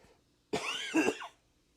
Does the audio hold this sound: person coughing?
yes